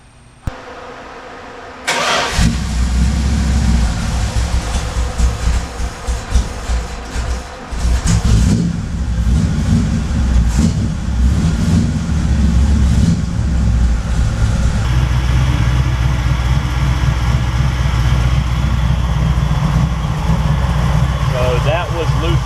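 Car engine fitted with a Thermoquad carburetor, with a vacuum leak that causes surging, cranks and catches after a short quiet start, then runs steadily as it warms up, a loud, close, continuous idle.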